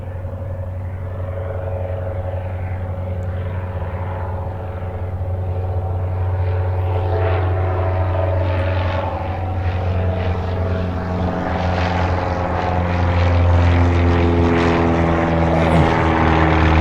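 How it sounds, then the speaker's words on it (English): A propeller airplane drones overhead at an orange grove in Mesa, Arizona, a steady loud engine hum that slowly grows louder as it passes close by. "Here comes a plane."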